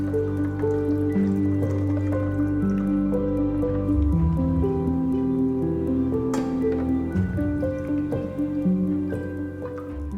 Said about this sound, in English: Pour the curry into the blender using a sieve to catch the solid ingredients.